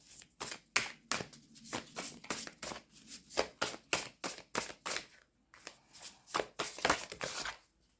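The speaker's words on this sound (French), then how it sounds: "on va prendre 2 cartes du tarot par thème" Tarot cards are shuffled and drawn, producing a rapid run of crisp riffling flicks and slaps close by, broken by a brief pause midway, with no talking.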